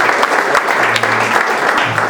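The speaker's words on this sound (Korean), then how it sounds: "박수로 환영할게요" Applause welcoming a newcomer at a Sunday church youth service, a dense, loud round of clapping from a small congregation, sustained and even for about two seconds.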